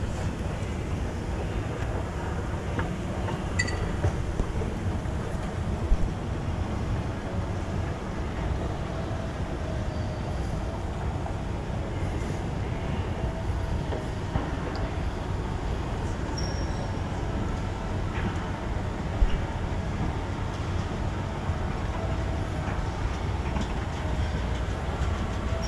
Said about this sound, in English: That's a solid escalator right there. So smooth.